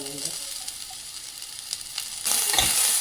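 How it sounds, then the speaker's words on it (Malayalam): Potato, tomato and green chilli sauté in a pan, with a quiet hiss that swells into a loud, steady sizzle partway through. "ഇനി ഇത് വഴറ്റുക."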